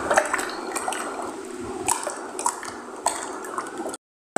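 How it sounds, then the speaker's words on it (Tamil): Green colour is poured into homemade liquid detergent, with sloshing liquid and sharp clinks of a utensil against a container, close up and without voices, ending in sudden silence. "சரி greenஆ ஊத்திட்டேன் நல்லா கலக்கணும்"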